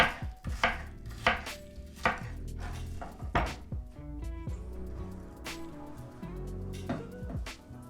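A knife chops peppers on a cutting board in a series of sharp, close, irregular strikes, some quick bursts and some single cuts, with light clatter and no talking.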